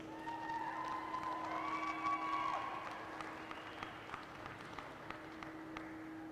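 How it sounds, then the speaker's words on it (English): Faint, scattered clapping from an audience at a county fair show ring, applauding 8-year-old children; a steady low hum and a brief whistle-like tone run beneath the thin, uneven claps. "Let's give a round of applause to these 8-year-olds"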